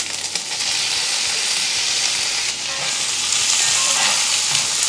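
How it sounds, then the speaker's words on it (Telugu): Tomatoes stir-frying in a hot pan with mint and ginger-garlic paste, a loud, steady sizzle and hiss that runs without a break, with faint stirring scrapes and no voices. "టమాటోస్ని కొద్దిగా ఇలా స్టర్ ఫ్రై చేసేసి మూత పెట్టేద్దాం"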